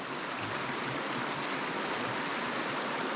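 Creek water flows steadily in a broad, continuous rushing wash, close and even throughout with no talk, at a rockhounding spot for jasper, agate and hematite.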